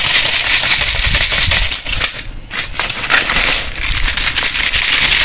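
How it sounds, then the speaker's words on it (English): Dried brown luffa gourds are shaken by hand, their loose seeds rattling inside in dense, scratchy bursts with a brief lull midway, close and loud. "you can hear the seeds rattling in there, and that's when you know it's ready"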